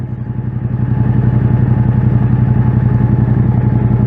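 A motorcycle engine idling close by, a steady loud throbbing putter that builds slightly at the start and then holds.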